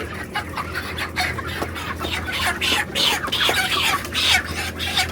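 Broiler chickens at a controlled poultry farm, several hens clucking in quick, overlapping bursts close by over a constant low ventilation hum, with a little background talk.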